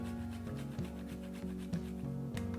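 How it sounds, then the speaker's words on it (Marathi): Nutmeg rubbed against a grater above plum cake batter gives a steady rasping scrape in short repeated strokes, close and quiet, over a faint background tone. "इथे मी जायफळ किसून घालते"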